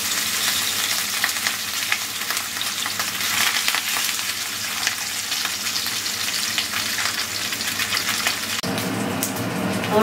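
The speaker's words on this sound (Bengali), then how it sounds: "আমি এবার তেল দেবো মাছটা ভাজার জন্য" Large fish pieces fry loudly in oil on a tawa, a dense close-up crackling sizzle running continuously with no talk.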